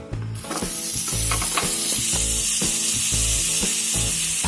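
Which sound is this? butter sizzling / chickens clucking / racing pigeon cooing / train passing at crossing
butter sizzling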